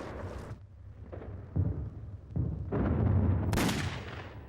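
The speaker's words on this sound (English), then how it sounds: "a preemptive bombing raid caught large numbers of US aircraft neatly lined up at Clark Field" Heavy bombing raid explosions on Clark Field airfield in the Philippines, archival World War II footage: deep booming blasts arrive one after another in rumbling waves, loud and close, with no talk over them.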